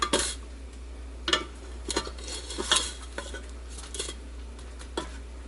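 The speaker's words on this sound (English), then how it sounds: "I'm flipping the burgers over." Burgers being flipped in a Ninja Foodi: sharp metallic scrapes and clanks of a utensil against the cooking pot at irregular intervals, over a steady low hum and faint sizzle, close by with no talking.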